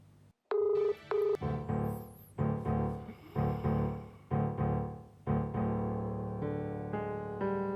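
A telephone call being dialed: a short tone, then a run of repeated ringing tones in a steady rhythm, clear and close with no voices.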